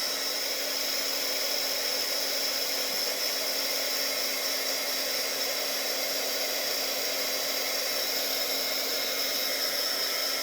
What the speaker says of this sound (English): So I'm going to go over this real quick with the heat gun